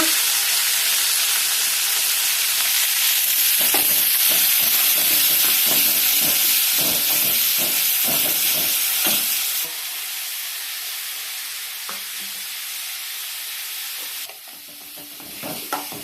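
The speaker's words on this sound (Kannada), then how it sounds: "ಎರಡು ಈರುಳ್ಳಿ ಹಾಕಿದ್ದೀನಿ, ಒಂದು ಟೊಮೊಟೊ ಹಾಕಿದ್ದೀನಿ. ಎಲ್ಲ ಫ್ರೈ ಮಾಡ್ಕೊಳ್ಳೋಣ." Chopped onions and tomato frying in hot oil for mutton sambar, a steady loud sizzle with stirring scrapes and clinks over the first half, then a quieter continuous hiss, with no talking.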